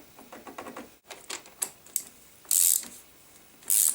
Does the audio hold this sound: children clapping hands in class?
no